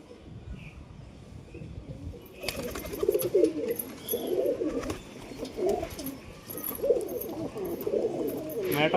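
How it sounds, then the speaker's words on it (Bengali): Several pigeons coo in soft, low, throaty rolls, repeating at a gentle pace nearby, with faint background noise. "এই যে চার পাঁচটা কবুতর এখানে আছে"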